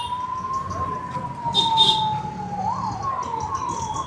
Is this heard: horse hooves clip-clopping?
no